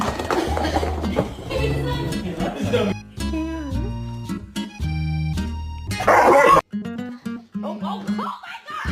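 A puppy yips, barks and whimpers in short repeated bursts amid a busy mix, with people talking and laughing close by throughout.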